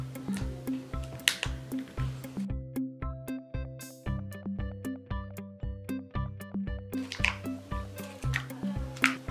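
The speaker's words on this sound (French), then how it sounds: "Ensuite il faut prendre le paquet nourriture de licorne et le verser dedans." A packet of unicorn food for a Poopsie slime surprise kit is poured into a cup of water, heard as steady soft drips and squishy liquid patters under a background of repetitive music-like tones.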